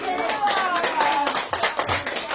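A church congregation claps in a rapid, steady rhythm, the clapping mixed with a preacher's voice talking loudly over it throughout.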